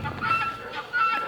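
Guinea fowl call in short bursts of harsh, high-pitched chattering, fairly close, with a brief pause partway through and no talking over them.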